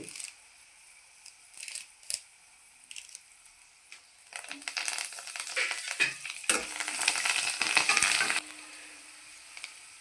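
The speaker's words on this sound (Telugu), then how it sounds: "ఇప్పుడు లాస్ట్ కరివేపాకు వేసుకుందామండి." A sharp burst of sizzling crackle erupts partway through as curry leaves hit hot tempering oil, following a few clinks and soft kitchen sounds, then fades to a quiet simmer.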